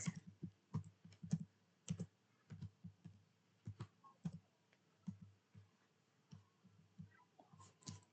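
Quiet, close keystrokes on a computer keyboard entering network settings, irregular bursts of clicky taps with short pauses between groups.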